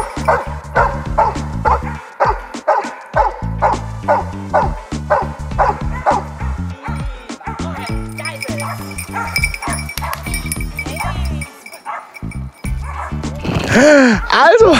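A rescue dog barks repeatedly on finding a person hidden in the woods during a search training exercise, with rapid close bow-wows and yips turning into whimpers, while excited voices talk over it.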